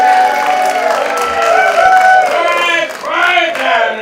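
Crowd noise in a radio play, a dense close-up murmur of many voices calling out and cheering in overlapping waves before settling, with a brief swell near the end.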